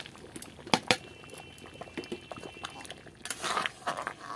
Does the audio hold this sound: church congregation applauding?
no